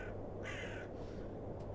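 A crow caws once in the video game The Excavation of Hob's Barrow, a single harsh call through the middle of the moment over a steady low ambient hum.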